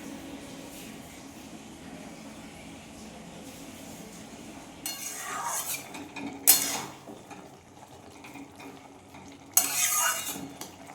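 Ghee and milk being stirred into a mustard dish in a pot, with soft scraping and clinks of a spoon against the metal over a quiet background, three sharper clattering bursts standing out midway and near the end.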